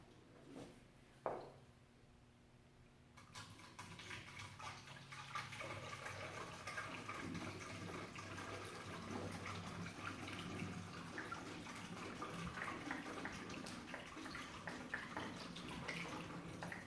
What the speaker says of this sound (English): Let's pour in our water.